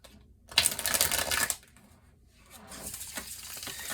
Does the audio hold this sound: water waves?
no